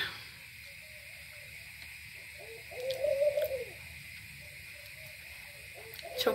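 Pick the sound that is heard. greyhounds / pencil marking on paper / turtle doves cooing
turtle doves cooing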